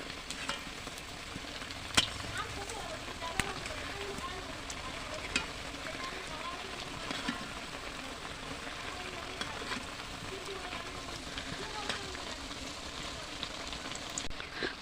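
Potato and green banana koftas fry in hot oil with a soft, continuous sizzle and occasional sharp crackles and pops, quiet and close.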